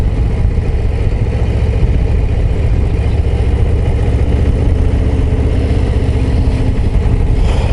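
A Harley-Davidson Low Rider ST cruiser being ridden at low speed, its engine a loud, steady rumble close by with wind roar; any gear clunks are buried in the continuous drone.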